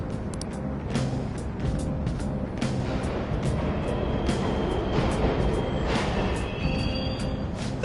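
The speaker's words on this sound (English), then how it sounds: "trains are totally running! Of course they are. We're in the subway" Subway trains run in a palace level of the video game Persona 5 Royal, heard as a continuous mechanical rumble with scattered clanks and rattles and a faint high whine near the end, and nobody speaks.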